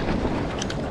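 Steady, heavy winter wind at Sebastian Inlet buffeting the microphone with a dense roaring rush, constant and close throughout, no voices.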